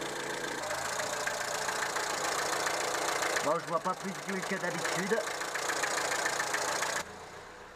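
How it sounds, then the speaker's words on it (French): A Renault 11 GTL engine idles with a steady mechanical hum and light ticking, close by, while someone speaks French briefly over it. "Je vais faire tourner le moteur jusqu'à ce que le motoventilateur se déclenche."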